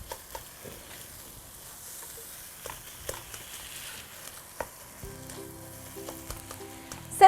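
Lean ground turkey and chopped red pepper sizzle softly in a skillet while being stirred, a quiet crackle punctuated by occasional scrapes and taps of the utensil, alone without talk.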